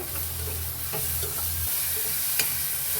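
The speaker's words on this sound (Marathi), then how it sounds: "आता याच्यामध्ये मी हा एक मोठा टमाटर असा कापून घेतलेला, तो पण थोडा मी भाजून घेणार आहे" Cut tomato roasting in oil with fried onion in a home kitchen pan, a steady close sizzle with soft stirring scrapes and a sharper click near the end, no talking.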